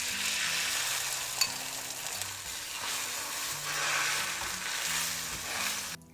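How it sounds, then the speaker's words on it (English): Egg mix with herbs poured into a buttered pan sizzles and fries with a steady bright hiss, close and alone, swelling slightly midway while faint utensil stirring and soft background tones run underneath. "A little bit of butter, and then we're just gonna pour in our egg mix."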